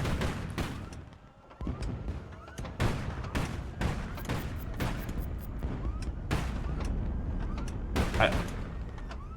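Rapid bursts of gunfire and heavy booms sound as Nimrod aircraft are shot down in the Highfleet video game. The sharp repeated shots come in clustered volleys, loud and continuous throughout.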